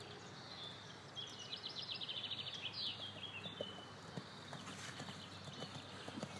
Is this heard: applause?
no